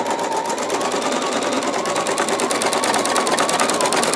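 A sewing machine stitching with fine thread runs steadily, its close, rapid, even mechanical chatter continuing without pause throughout.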